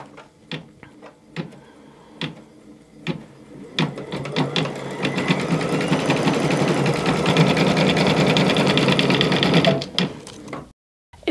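A Baby Lock Altair sewing and embroidery machine stitches a word in purple thread after a few quiet clicks, building into a steady, close, rapid mechanical whir for several seconds before stopping abruptly.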